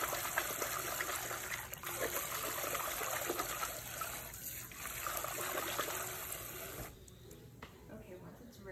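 Water runs steadily into a basin to fill a shampoo bath, a continuous splashing trickle heard close by. It quiets somewhat near the end, and brief talking may occur over it.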